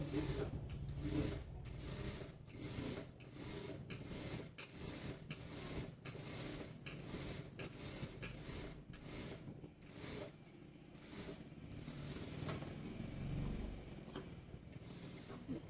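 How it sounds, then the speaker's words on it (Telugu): A sewing machine runs a long, loose stitch along the seam of a double-layer frock for a seven-year-old girl, with a fast, steady mechanical clatter close by that continues without a break. "పెద్ద కుట్టు అనేది పెట్టుకుని లూజ్ కుట్టు ఇలా చివరిని కుట్టు అనేది వేసుకుంటున్నాను"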